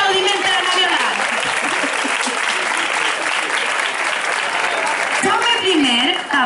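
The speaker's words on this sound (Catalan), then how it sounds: "Un fort aplaudiment" Audience at a morning commemoration for 9 October breaking into loud, dense applause, sustained for several seconds with voices and cheering mixed in near the end.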